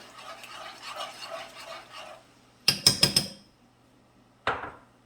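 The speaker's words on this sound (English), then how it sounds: "we will add our heavy cream slowly by mixing it" Heavy cream stirred in a pan while cooking a Peruvian fried fish dish: soft scraping and swirling at first, then a quick cluster of sharp metallic utensil clinks against the pan and a final single clank.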